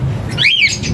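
One short, loud, close squawk from a large, big-bodied bird, a single harsh sweeping call lasting under a second.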